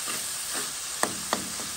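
A pot of rougail made with fresh river prawns simmers and sizzles with a steady hiss, broken by two sharp metallic clinks near the end, and nobody speaks.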